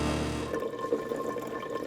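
A Curtis D1000GT twin airpot coffee brewer drips steadily, a soft continuous trickle of falling water with small irregular splashes, close and moderately quiet, with no voices over it.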